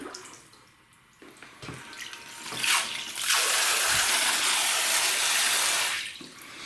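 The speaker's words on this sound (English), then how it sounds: "Let it drip out whatever water" Water runs and splashes out of an emergency hot shower setup, starting as faint drips and trickles, then a steady loud gush for a few seconds before tapering off.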